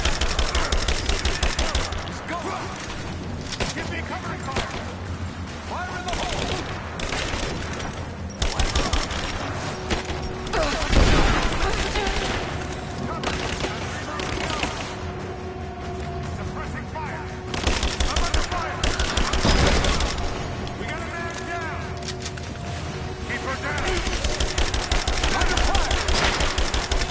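Gunfire rattles in the video game Rise of the Tomb Raider, repeated bursts and single shots over a dense game soundscape with a steady low background throughout.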